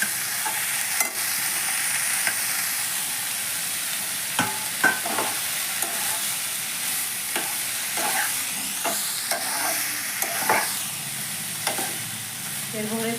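Chopped banana stem is fried and stirred in spice paste for a Bengali thor bori ghonto, with a steady hiss of sizzling oil broken by occasional scraping knocks of the spatula in the pan.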